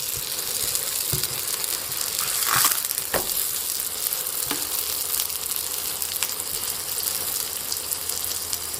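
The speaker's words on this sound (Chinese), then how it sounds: "油热后放入生坯，盖上盖子，先烙2分钟" A chive-filled pancake pan-frying in hot oil under a lid, a soft continuous sizzle with a few sharp crackles and clicks near the start, heard close and alone.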